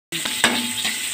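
Garlic and onion sizzle steadily in a hot pan while a utensil stirs them with a few scraping knocks against the metal, close and brief.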